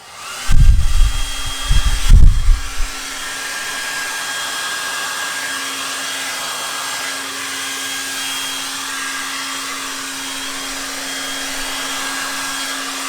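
After a couple of brief knocks, a hair dryer on its higher fan setting runs steadily and loudly, blowing across a Dutch pour acrylic painting on a yellow and white background, a constant airy roar with a faint hum.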